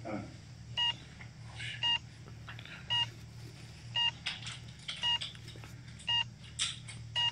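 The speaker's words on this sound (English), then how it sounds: "you hear that beep, beep, beep, beep. That's not in the room." Electronic beeping repeats in short evenly spaced pairs of high tones, some distance off in a quiet indoor space, over a low steady hum with no talking.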